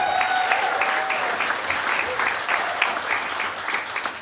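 A comedy festival audience applauds and cheers loudly for the whole stretch, dense steady clapping with a few whoops rising above it.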